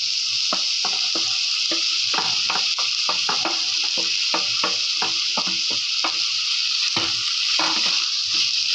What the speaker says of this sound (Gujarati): બધા શાકભાજીને બે મિનિટ માટે શેકાવા દઈશું